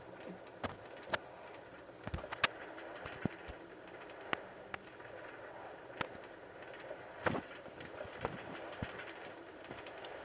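A train rolls along a railway in the video game Minecraft, with faint, steady clicking and sharp periodic clacks over a quiet background.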